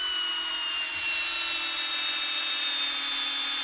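A Metabo 12V PowerMaxx drill drives timber lock screws at speed 1, giving a steady, high-pitched motor whine that holds constant throughout with no talk.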